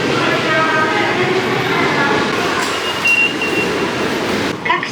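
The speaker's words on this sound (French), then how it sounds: "Alors là on est à la gare d'Osaka en train d'attendre le deuxième train pour Kyoto." A train at Osaka station in Japan rumbles steadily along the platform, with a continuous mid-level roar and faint brake squeals and tones, while voices talk over it throughout.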